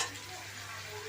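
Tomatoes hit golden-fried onions in a pan for chicken makhni, raising a brief steady sizzle and frying hiss up close.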